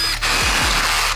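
Drill bit boring into a UPVC french door jamb beside the bottom hinge, a close, loud, steady whirring grind running nearly the whole moment with brief low-pitched revving at start and end.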